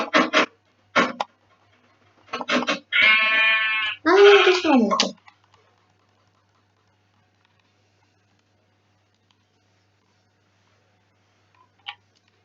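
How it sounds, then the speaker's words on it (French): Minecraft sheep bleat in close succession, a few short clicky bursts followed by two longer wavering bleats, then silence with a faint tick near the end. "j'ai un mouton, mais il va falloir que je le tue pour avoir de la laine"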